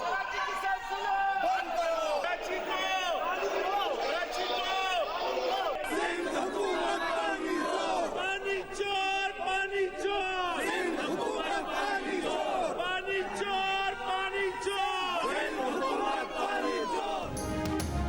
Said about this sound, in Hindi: कराची को पानी दो के नारे लगाए।